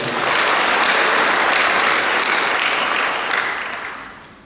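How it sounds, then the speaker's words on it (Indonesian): A university audience of lecturers, staff and students breaks into sustained applause, dense and loud throughout before tapering off at the end, with no speech over it. "Kita berikan aplaus juga."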